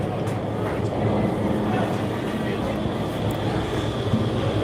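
Indoor skydiving vertical wind tunnel with its fans at 60% power pushing wind at about 94 mph, a loud, steady, broadband roar that fills the whole stretch without letting up.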